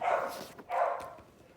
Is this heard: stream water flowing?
no